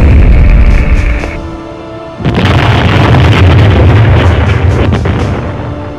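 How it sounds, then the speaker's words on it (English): A torpedo explosion strikes a ship in the Wing Commander space combat game, a sudden loud boom that drops into a low rumble and then bursts into a sustained, roaring blast lasting several seconds. "We've got a torpedo incoming."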